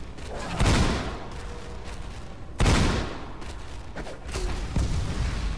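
Video game gunfire lands in a few heavy, booming blasts spaced a second or two apart, loud and close, trailing into rumbling noise with no talk over it.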